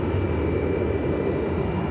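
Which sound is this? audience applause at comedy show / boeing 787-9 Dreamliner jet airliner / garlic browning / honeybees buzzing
boeing 787-9 Dreamliner jet airliner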